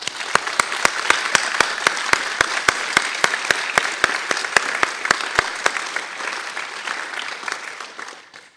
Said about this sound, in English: Graduates, please join me in giving your supporters and loved ones a round of applause.